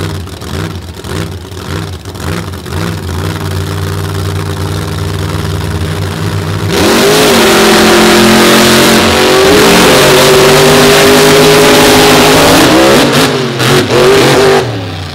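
A big-horsepower monster truck engine at a beach monster truck show rumbles loudly, then surges into a sustained roaring rev that rises and wavers for several seconds, with no talking.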